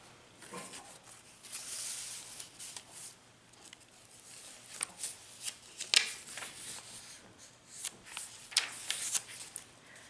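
Paper journaling cards from a prayer journal being handled, soft rustling and sliding with scattered crisp flicks and taps, close and quiet, without talk.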